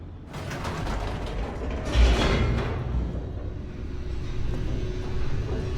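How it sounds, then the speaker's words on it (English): An elevator descends in The Stanley Parable as a steady mechanical rumble with creaking, ratcheting gear noise, swelling briefly near the middle, continuous and fairly close throughout. "The elevator raced downward, plummeting towards an unknown fate."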